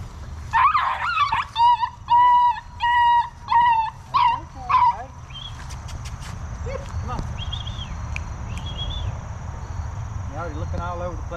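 Beagle puppies whimper and yip in a string of high, close cries, strongest at the start, then settle into scattered softer whines over a low background murmur.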